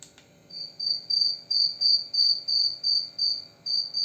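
A grasshopper chirps in a regular rhythm, about ten short bright pulses evenly spaced, close and clear against a quiet background.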